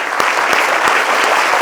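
Short burst of close, loud applause at a school award ceremony, many hands clapping with a few sharper individual claps standing out.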